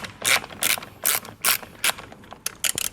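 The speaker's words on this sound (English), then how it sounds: "So if you have an 8mm socket and an extension, you can go ahead and take this one and this one out." A ratchet with an 8mm socket turns out taillight screws on an Acura MDX, giving repeated quick bursts of close, crisp clicking in an uneven rhythm with no talking.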